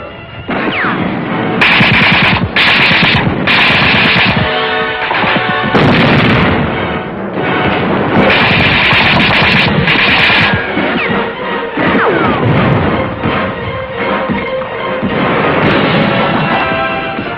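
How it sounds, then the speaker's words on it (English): American tanks in a racetrack infield firing point-blank at defenders in the grandstands during a 1945 World War II battle, a loud, dense barrage of booms and gunfire blasts over a continuous rumbling din. "American tanks in the infield fired their guns point blank at enemy defenders who were hidden in the grandstands"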